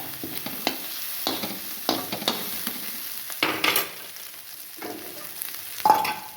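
Cauliflower rice fries in a pan with amchur powder, with a low sizzle broken by several distinct stirring scrapes and clanks at irregular intervals, close and moderately loud.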